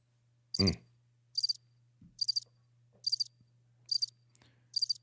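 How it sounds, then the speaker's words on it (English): Crickets chirp in short, evenly spaced bursts, six of them, each a quick trill, over a faint low hum, with one brief knock near the start. "No, that's not claps this time. That's just crickets."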